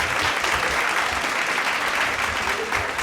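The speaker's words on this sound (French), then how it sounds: "je vous demande d'applaudir, vraiment d'applaudir" An audience at an association's anniversary evening applauds a Caribbean music artist, with steady, dense clapping from a full room that carries on without a break and some faint crowd noise underneath.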